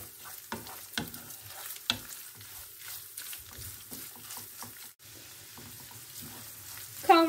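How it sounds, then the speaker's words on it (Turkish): Ground meat sizzles and fries in oil in a pan for a Turkish çökertme kebab, with steady crackling, occasional sharper spatters and stirring scrapes, close and fairly quiet, no talking. "Kavrulan kıymamın üzerine 5 yemek kaşığı kadar, yani yarım çay bardağı kadar sıvı yağımı bıraktım."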